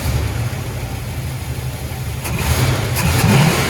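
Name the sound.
1981 Delta 88 engine running with valve tick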